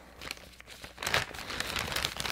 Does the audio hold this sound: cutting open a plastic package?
yes